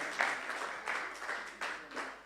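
A church congregation claps and applauds in a broad, continuous wash of hands, rising in waves, fairly loud and close, with no clear speech over it.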